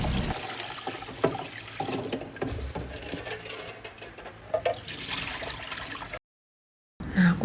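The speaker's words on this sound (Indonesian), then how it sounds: "Kita kasih air dulu." Water splashing and running over boiled eggs in a container, a busy watery rush with small clinks and bumps, close and steady for about six seconds before a short silence and a final burst.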